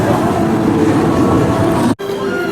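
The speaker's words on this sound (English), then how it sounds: "And here's the train." The Hogwarts Express train at Universal Orlando rumbles past as a loud, steady roar with broadband rushing noise that cuts off abruptly near the end.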